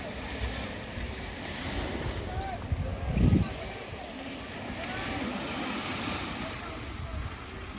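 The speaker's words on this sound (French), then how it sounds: "J'espère que vous allez m'entendre malgré le vent et les vagues." Strong wind buffets the microphone while ocean waves roll and surge steadily on a beach in Dakar, Senegal, beside a mosque, a loud continuous roar with one brief heavier thump.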